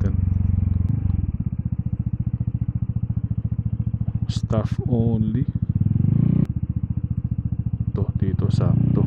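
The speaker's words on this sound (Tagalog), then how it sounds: "So, kaya okay park tong motor natin." A Vespa GTS 300 scooter idles with a steady, close putter while being parked outside a clinic, a few clunks and rattles breaking in and a person speaking briefly over the engine.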